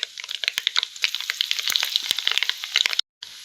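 Kumta chilies hitting hot oil for a tempering for raw jackfruit palya, a loud, close crackling sizzle with sharp pops throughout, cutting off abruptly near the end.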